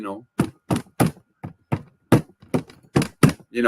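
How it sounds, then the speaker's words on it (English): Hands bang on a desk in a drumming pattern, giving about nine sharp, close thunks at a quick, slightly uneven rhythm, each one short and punchy, with brief gaps of quiet between. "just banging on the desk"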